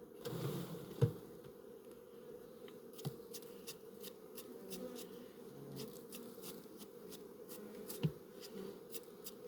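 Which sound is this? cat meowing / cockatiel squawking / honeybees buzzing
honeybees buzzing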